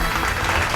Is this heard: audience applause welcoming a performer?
yes